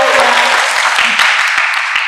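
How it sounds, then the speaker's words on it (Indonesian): Loud, close audience applause during a gender equality lecture, a dense burst of clapping from a crowd with scattered individual claps standing out, no talking over it. "ya tepuk tangan ya."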